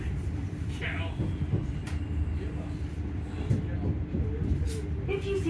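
ScotRail class 385 electric multiple unit train heard from inside, with a steady low motor and running drone throughout and a few faint higher whines and rattles over the rumble.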